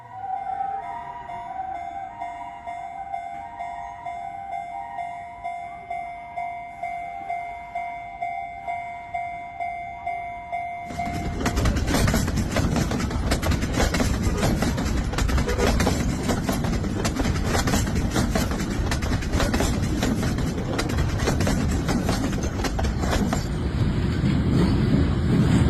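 A tram passes an ambulance: a sustained tonal wail with a steady pulsing rhythm gives way abruptly to a loud, continuous rumbling roar that lasts to the end.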